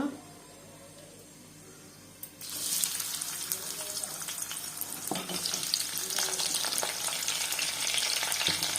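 Cumin seeds dropped into hot oil in a pan while cooking a Telugu ridge gourd and tomato curry: quiet at first, then a loud, continuous sizzle bursts up and keeps crackling close by.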